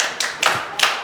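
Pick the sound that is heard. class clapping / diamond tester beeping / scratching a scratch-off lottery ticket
class clapping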